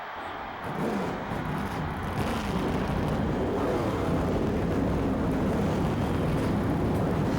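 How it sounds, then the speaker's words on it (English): Race car engines starting in the NASCAR Thunder 2004 video game, set for the Dover night race, rising quickly into a steady, loud, dense engine roar that holds without a break, with no talking. "Gentlemen, start your engines."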